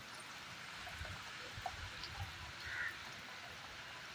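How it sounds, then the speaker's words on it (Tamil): Steady rain falls outdoors during a wet spell, a continuous soft hiss with scattered drips and patters on surfaces, fairly faint and even throughout, with no one speaking. "நல்லா மழை பெய்யுது, சூப்பராக"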